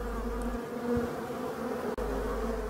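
Black honeybees buzz steadily around their hives outdoors, a continuous close droning hum with no talk, briefly interrupted by a short dropout near the end.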